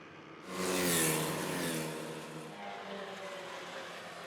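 Formula Vee race cars accelerating on track at Indianapolis Motor Speedway during the SCCA Runoffs, engines swelling loudly as they pass close by, then a sustained fading drone.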